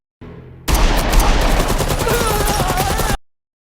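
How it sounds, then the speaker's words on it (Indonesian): A film fight scene erupts into a rapid, loud burst of gunfire, a rattling volley of shots lasting a few seconds after a quieter lead-in, then stopping sharply. "Samson pun mengeluarkan pistol dan menembak lengan sang kapten"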